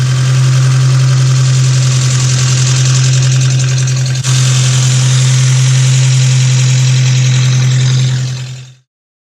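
Porsche 924 engine running at a steady idle after an oil change, a loud, constant mid-pitched drone with a strong low hum that holds unchanged for about eight seconds before cutting off.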